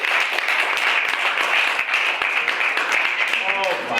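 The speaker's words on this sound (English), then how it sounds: "One more round of applause for Stoney, everyone, please." Audience applause at an open mic night, a steady dense wash of clapping with scattered shouts and voices over it throughout.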